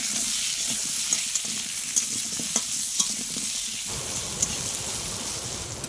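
Potatoes fry with turmeric in a little oil, giving a dense, steady sizzle with occasional spatula taps, close and continuous, shifting to a rougher crackle toward the end.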